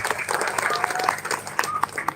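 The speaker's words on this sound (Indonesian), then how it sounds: "Tepuk tangan." Audience applause at an Islamic school graduation ceremony (Haflah Akhirussanah) fills the hall as a steady clatter of many hands, fairly loud and close, with a few scattered voices mixed in.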